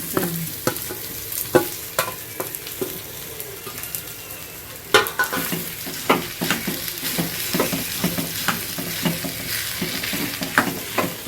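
Boiled potato pieces coated in masala fry and sizzle in oil for an upside-down vada pav, with steady crackle broken by repeated sharp scrapes and knocks of a stirring spoon against the pan, close up and with no talk.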